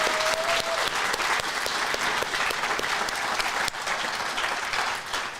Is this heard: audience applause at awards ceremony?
yes